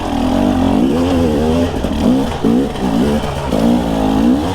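Two-stroke dirt bike engine revving hard in rapid rising-and-falling bursts, loud and close, with a buzzy pitch that climbs and drops several times as the throttle is worked during a ride.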